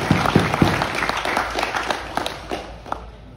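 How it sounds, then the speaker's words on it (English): Scattered applause from an audience at a talk on successful wrestling, a few sharp claps standing out near the start before the clapping thins and tapers off. "a round of applause for Justin and give some respect"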